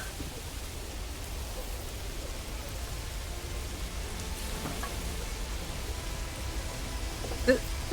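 Steady rain pours in the video game Pacific Drive, a constant hiss of drops on surfaces with faint scattered clicks and a soft bump near the end, no talk.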